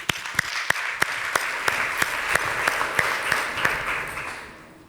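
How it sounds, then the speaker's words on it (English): An audience at a documentary and transmedia event in Barcelona gives a round of applause for a speaker, with distinct rhythmic claps over a softer wash of clapping that fades out at the end. "Let's give a big round of applause to Emilie."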